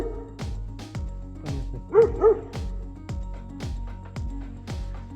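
A dog barks repeatedly at a steady rhythm along a village road, close and fairly loud, roughly two barks per second, with a couple of higher yelps mixed in.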